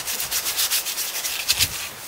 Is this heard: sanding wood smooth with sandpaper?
yes